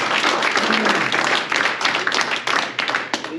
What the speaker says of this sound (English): Applause for Ken